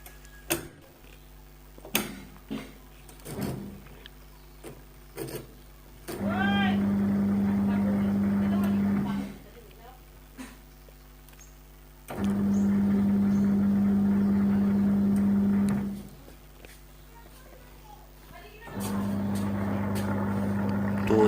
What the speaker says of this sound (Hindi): तो यहाँ पे मोटर का आवाज़ आप लोग सुन पा रहे होंगे।